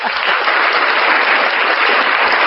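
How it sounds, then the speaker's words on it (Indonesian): A room applauds for Emil, dense steady clapping that is loud and close and fills the whole stretch without a break. "Tepuk tangan ke Emil."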